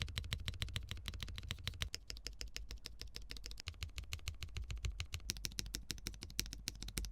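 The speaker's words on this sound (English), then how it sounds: "And now there's PCB foam in the keyboard." Steady typing on a mechanical keyboard with PCB foam inside, producing a continuous stream of close, sharp keystroke clacks at a brisk, even pace, with no talking over it.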